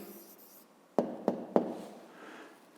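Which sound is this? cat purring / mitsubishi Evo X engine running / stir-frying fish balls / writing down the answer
writing down the answer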